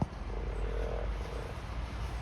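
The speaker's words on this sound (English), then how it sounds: "Oh, he's croaking. Look at that." A frog croaks in a low, steady purr over outdoor background noise, fairly faint and continuous for a couple of seconds.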